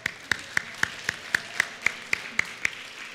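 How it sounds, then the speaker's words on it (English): A small audience at a live Asian New Year event claps in a sparse, steady rhythm, about a dozen distinct, evenly spaced claps close by with no talking. "We'll give them another round of applause"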